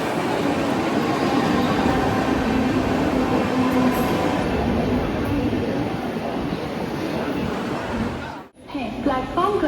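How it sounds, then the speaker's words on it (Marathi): A Mangalore Superfast Express train rolls into platform 7 at a station, a loud, sustained rumble of wheels and carriages with crowd noise, fading to a brief lull before station sounds resume. "प्लॅटफॉर्म क्रमांक 7 वर आलेली गाडी 1133 down Chhatrapati Shivaji Maharaj terminus Mangalore superfast express आहे"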